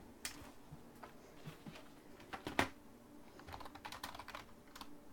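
Scattered keystrokes on a computer keyboard, light irregular clicks with a couple of sharper hits, fairly quiet in a room with low background noise.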